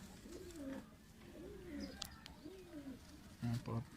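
Faint coos from chuha breed pigeons repeat in soft rolling phrases, with a few brief chirps and background rustle.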